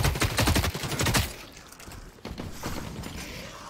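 A rapid burst of automatic gunfire in the video game The Cycle: Frontier rattles loudly for about a second, then fainter scattered shots and echoes trail off.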